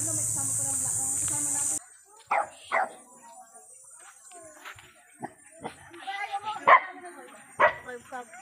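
A dog barks during a charity outreach visit in Antipolo, giving several sharp, separate barks and yips, some close and loud, among quieter background sounds after a burst of music.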